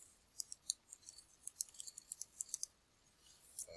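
Quick, light plastic key taps on a calculator, about a dozen clicks in an uneven run, close and fairly quiet, with no talking.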